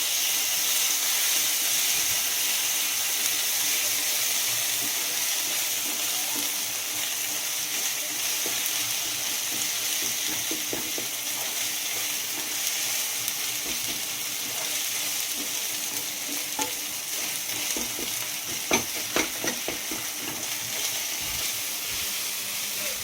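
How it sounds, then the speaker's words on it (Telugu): Turmeric and ginger frying in a pan for gongura chicken curry, a soft, steady sizzling hiss with a few faint stirring scrapes, no talking. "పావు టీ స్పూన్ పసుపు వేసుకొని అల్లం వేసుకొని కలుపుకుంటున్నాం"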